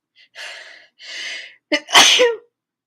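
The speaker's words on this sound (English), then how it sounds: "oh, I have a sneeze." A single loud, close sneeze comes after two soft breathy in-breaths and a sharp catch of breath, with nobody speaking.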